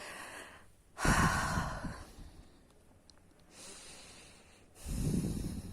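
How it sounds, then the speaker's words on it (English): A slow, deep breath is drawn in and pushed out, two long airy breaths about a second each separated by a quiet pause, close and alone with no talking. "Take a deep breath, everyone."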